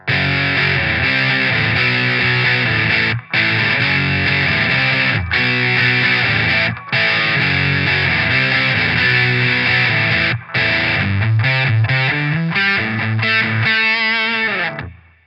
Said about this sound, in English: the diodes are just taken out completely and you're just getting the pure op-amp distortion